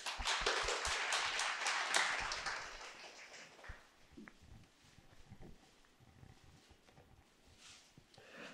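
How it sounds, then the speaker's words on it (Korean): Audience applause at a police civil-service exam strategy seminar, a dense burst of clapping for the first couple of seconds that gradually thins into scattered claps and fades to quiet room noise. "박수 부탁드릴게요"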